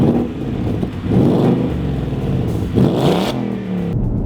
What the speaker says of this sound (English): this car comes with the optional sports exhaust